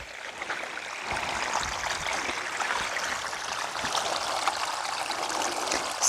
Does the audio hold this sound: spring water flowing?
yes